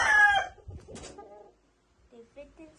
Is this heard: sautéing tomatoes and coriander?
no